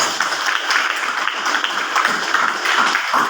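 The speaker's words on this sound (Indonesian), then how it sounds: "Tepuk tangan buat seluruh." Dense, loud applause from a large crowd at the closing ceremony of a millennial preachers' competition in North Sumatra, a continuous roar of clapping that holds steady throughout.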